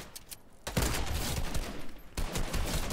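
Shotgun gunfire in the Fortnite video game, a burst of dense, loud blasts that run nearly nonstop across the whole stretch, with a brief lull in the middle before the firing resumes.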